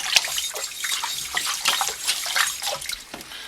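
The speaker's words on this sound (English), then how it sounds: "So you really got to make sure that there's water going in between it and the stone" Water runs and splashes between a knife blade and a Norton waterstone during lapping, a soft, uneven trickle with small drips and bursts close by. No talking.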